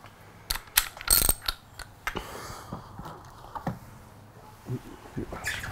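Clicking and ratcheting from an oil filter wrench working loose the oil filter on a Kawasaki Z900 motorcycle during an oil change, a series of sharp metallic clacks and scrapes, close and fairly loud, with no talk.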